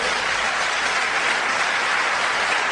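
A congregation at a Christian testimony service applauds in praise of Jesus, a continuous, even wash of clapping with no distinct individual claps standing out.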